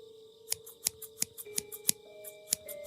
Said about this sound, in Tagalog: Parang gunting